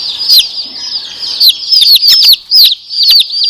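Day-old Barred Rock chicks chirp in high, rapid peeps, several overlapping calls close up and loud, with brief gaps between bursts.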